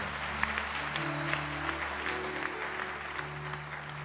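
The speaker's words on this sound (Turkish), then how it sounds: "Bir büyük alkış daha onlara." Studio audience applauding contestants on a televised singing competition, a steady wash of clapping held for several seconds beneath a low musical hum.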